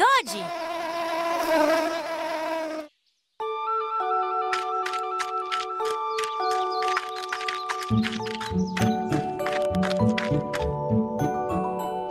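A cartoon bee buzzes loudly and close for a few seconds with a high, wavering whine. Bright, tinkling musical tones follow.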